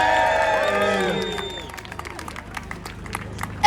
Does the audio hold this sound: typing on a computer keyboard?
no